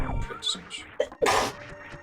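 A single sharp sneeze bursts out close by, preceded by a brief intake of breath, with soft background murmuring around it.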